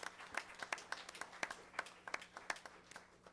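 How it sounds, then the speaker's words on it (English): A board meeting audience gives a sparse round of applause, individual claps standing out as distinct sharp bursts in an uneven rhythm, moderately quiet and somewhat distant with no talking over it. "So let's give her a round of applause for her hard work"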